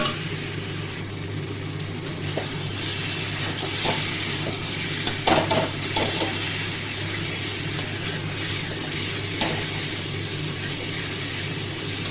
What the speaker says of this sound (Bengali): আবার ভালো করে নাড়িয়ে নেবো ভেজে নেবো